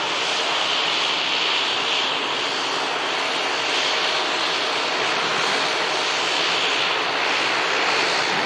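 A Dash 8 turboprop airliner taxis past at Manchester Airport in thick fog, its steady propeller and engine drone loud and continuous, heard from close by at a runway viewing park.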